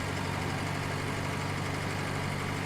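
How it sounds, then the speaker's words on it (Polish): A steady, droning tractor engine runs continuously at a constant pitch, low and even, with no other sounds, in Farming Simulator 19. "Fajne dźwięki, fajnie wygląda cały ten ciągnik."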